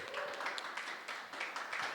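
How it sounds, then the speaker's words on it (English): Applause from a conference audience in Argentina, a dense, steady patter of many hands clapping at moderate distance, sustained throughout without a break. "A big round of applause,"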